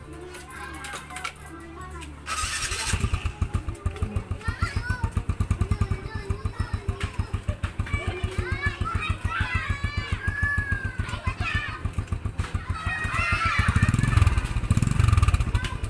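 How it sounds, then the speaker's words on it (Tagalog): An old motorcycle engine idles with a rough, rapid pulsing putter, steady and close, with a slight rise in revs near the end. "Pakinggan lang natin yung tunog niya. Ayan guys. Yung lumang motor na ito."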